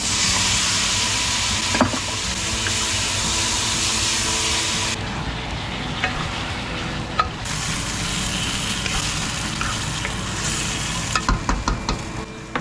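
Marinated pork for menudo sizzles loudly in a pan with garlic and onion, a steady broadband hiss of frying running throughout with occasional stirring clicks and scrapes near the end.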